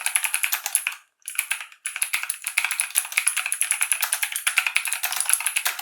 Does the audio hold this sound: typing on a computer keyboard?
yes